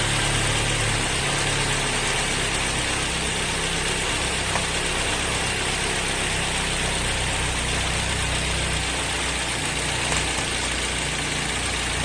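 A car engine idles steadily and loudly up close while a power inverter is connected to the running vehicle, a constant rumble with no speech.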